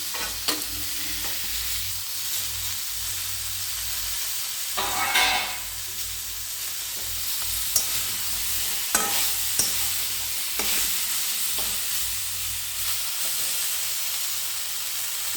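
Drumstick stalks hit hot ghee in a pan and fry with a constant loud sizzle and hiss, broken by a few clattering stirs and scrapes of a spoon.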